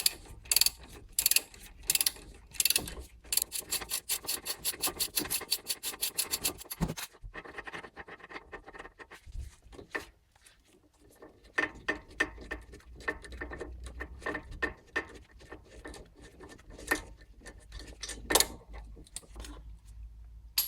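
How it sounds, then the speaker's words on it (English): A ratchet with a 17 mm socket removes the brake caliper bolts on a Toyota Corolla 2.0 D4D. Close, loud fast clicking bursts are followed by slower, spaced ratchet clicks and metallic rubbing, with no talking. "Use a 17 socket to remove this."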